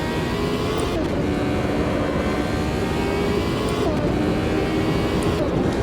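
An F1 Gen 02 race car in Automobilista 2 at the Jacarepagua circuit gives a loud, steady engine roar with a few brief dips and blips as it shifts down for a corner, no talking over it.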